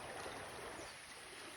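A river flows past a campsite at Camp Gilmore, a soft, continuous rushing of water heard steady and fairly faint, with no voices over it.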